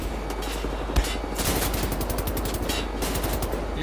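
An overheating rapid-fire gun in Wolfenstein: The New Order fires a continuous stream of fast, evenly spaced shots, close and dense with clattering impacts throughout, no voices over it.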